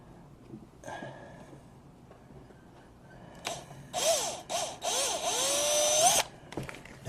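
A power drill boring a hole through the plastic hull of a Hobie Compass kayak, whining in several bursts that rise and fall in pitch, close up and loud, with quieter handling noises between.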